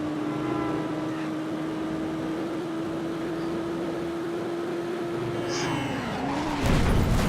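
A motorcycle engine drones steadily in the video game Midnight Club 2, then tires skid and screech loudly during a drift near the end, with game engine noise throughout.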